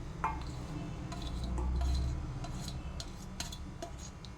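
Leftover rice dough being mixed with chopped onions in a bowl gives soft, close clinks and taps of a utensil against the vessel, quiet and irregular, with no voices.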